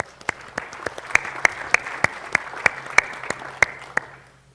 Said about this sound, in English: So let's have a round of applause for these apps.